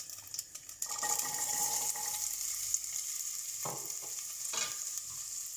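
Carrots tipped into hot oil with popping seeds sizzle loudly, then a spoon stirs them with scraping strokes while the frying hiss carries on steadily, close and without speech.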